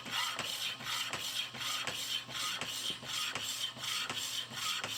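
A saw fitted with a 10 tooth-per-inch bronze-cutting blade cuts through bronze in a steady, rhythmic back-and-forth rasp, evenly repeating strokes at moderate level with no talk.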